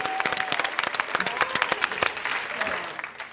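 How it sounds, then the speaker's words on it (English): Game show studio audience applause on Family Feud: dense, steady clapping from a crowd that fades slightly toward the end, with voices mixed in underneath. "What you clapping for?"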